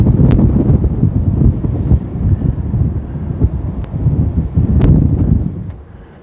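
Cold easterly wind buffets the microphone on a surf beach, a loud continuous low roar with gusts swelling and easing, with a few brief clicks and no speech.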